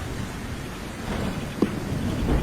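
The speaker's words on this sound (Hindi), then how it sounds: "अचानक से जंगल में तेज बारिश शुरू हो जाती है।" Heavy rain falls in a forest at night, a dense steady hiss with low rumbling underneath and one brief sharp knock.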